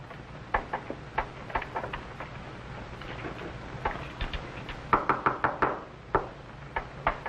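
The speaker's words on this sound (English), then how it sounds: "All right, Henry. Open the door." Knuckles rap on a wooden door in several short bursts of three or four knocks, moderately close, louder toward the end, with no voices.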